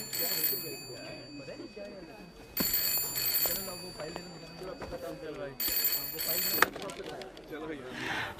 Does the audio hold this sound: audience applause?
no